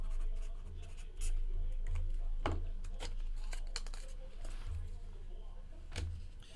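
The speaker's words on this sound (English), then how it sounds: "Let me write that down for the shipping team." Pen scratching on paper in quick short strokes and taps while shipping notes are jotted during a football card box break, close and fairly quiet over a low background hum.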